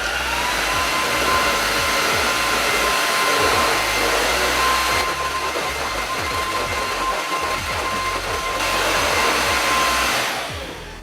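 An INSE S610 cordless stick vacuum runs on high, giving a steady, fairly quiet motor whine with airy rushing that holds for about ten seconds before winding down at the end, without speech.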